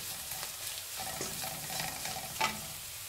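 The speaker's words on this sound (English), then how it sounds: "Now the masalas are well roasted from last 30 seconds." Onions fried golden brown with added masala spices roasting in a pan for an Indian Punjabi kadhi, a steady close sizzle with light stirring scrapes and one sharper clatter near the end, no voices.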